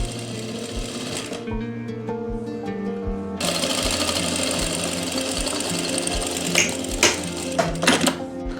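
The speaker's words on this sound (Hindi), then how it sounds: "अब मैं सिलाई लगाऊंगा इसकी, जितनी हमने मूरी रखनी है" Sewing machine stitching a puff sleeve, a steady rapid needle clatter with a regular low thump, close and loud throughout, with a slight change in tone partway and no speech.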